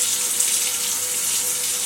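A kitchen tap runs steadily into a sink while dishes are being washed, a close, loud, continuous hiss of flowing water with no pauses.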